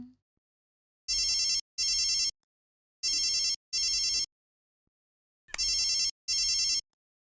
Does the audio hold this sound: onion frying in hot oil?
no